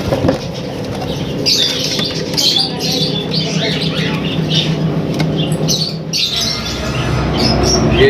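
A large American breed breeder male bird is heard at close range with repeated rough squawks and bursts of wing flapping over a constant low background hum.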